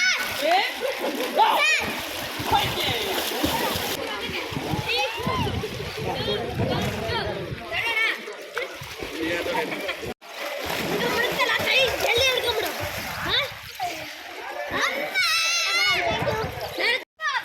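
Children splash and play in a swimming pool, with continuous water splashing and excited kids' voices close by throughout, briefly dropping out once midway.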